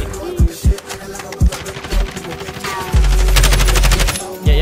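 Gunfire in the shooter Call of Duty Warzone: several sharp, close single shots early on, then a sustained loud burst of rapid automatic fire, with occasional talk in between.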